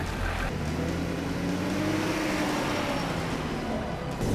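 A 4WD car rolls straight down a steep, twisty bush track in the rain with no braking, its engine giving a steady, close drone that holds level throughout.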